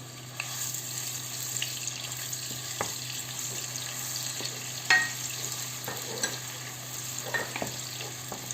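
Chopped onion frying in a pan, a steady close sizzle marked by irregular spoon scrapes and taps, with a constant low background hum underneath.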